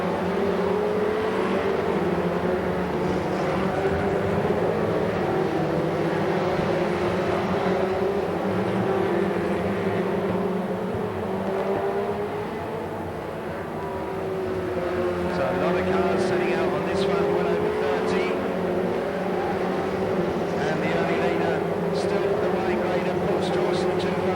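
Stock cars race around the Ipswich track, their engines forming a loud, continuous droning roar that swells and fades slightly as the pack passes, under a steady announcer's commentary.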